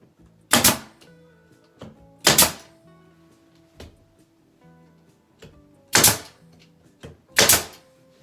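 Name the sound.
nail gun firing nails into door casing trim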